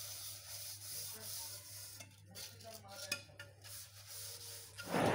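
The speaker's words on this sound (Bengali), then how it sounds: "প্রতিদিন এই বাসন পরিষ্কার করার ভালো লাগে না" Dishes being scrubbed by hand in a village home in Bangladesh, soft continuous rubbing with small clinks of pots and utensils, quiet and close, with a louder scrape at the end.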